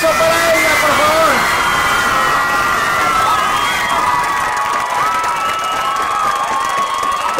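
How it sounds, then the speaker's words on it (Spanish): A large crowd at a Matlachin dance beauty pageant final in an arena cheers, shouts and claps loudly for a newly named princess, a dense continuous roar with high voices and whistles mixed in. "Fuerte el aplauso para ella, por favor."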